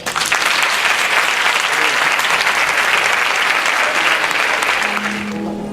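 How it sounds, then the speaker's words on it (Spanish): An audience at a 2015 Christmas festival with a nativity performance claps loudly and continuously for about five seconds, then the applause thins and fades as a low tone begins. "Y les damos también un fuerte aplauso."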